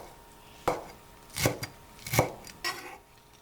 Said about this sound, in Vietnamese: Hành lá thì mình cắt nhỏ ra như vậy để lát nữa mình rắc lên mặt tô cháo cho thơm nha các bạn.